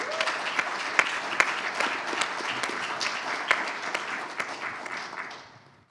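At the closing plenary session of an event in a ballroom, an audience gives applause for the logistics workers, a steady round of clapping with a few sharp claps that fades out at the end.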